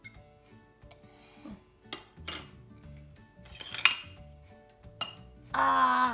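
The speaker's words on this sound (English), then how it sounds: "Mix, mix, mix." A spoon clinks and scrapes against a bowl while mixing chocolate birthday cake batter, a run of irregular sharp taps and a louder scraping burst at the end.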